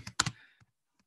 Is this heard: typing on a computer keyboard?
yes